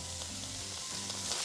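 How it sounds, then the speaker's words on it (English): Steak sizzles in a pan alongside potatoes for tacos a la mexicana, a soft continuous frying hiss with faint crackles and no talking. "And to that, we're going to be adding our sizzling steak."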